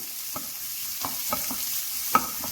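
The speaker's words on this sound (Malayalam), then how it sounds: "ഇത് അത്യാവശ്യം നന്നായിട്ടൊന്ന് വഴറ്റി കിട്ടണം." Chopped garlic sautéing in a pan for a breakfast chutney, a soft steady sizzle broken by several light scraping stirs spaced unevenly, close and quiet with no talking.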